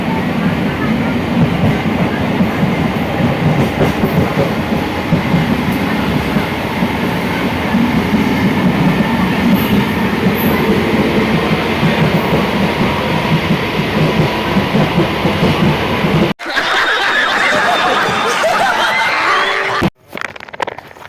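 A train rumbles loudly and continuously at a station, a dense rolling roar with rattling that cuts off abruptly near the end before a brief return, with voices faintly mixed in.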